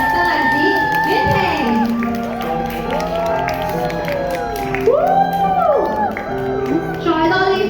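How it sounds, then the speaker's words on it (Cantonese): Wedding guests in a banquet hall applaud and cheer for the bride and groom's march-in, a dense crowd roar with whoops and shouts throughout, with an amplified announcer's voice and music layered over the top. "大家可唔可以再次俾熱烈嘅掌聲同歡呼聲"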